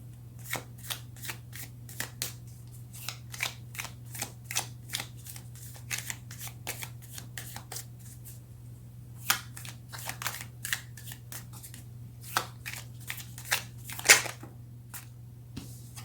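A deck of tarot cards being shuffled by hand, with quick repeated riffling flutters and soft slaps, close and fairly quiet over a low steady hum.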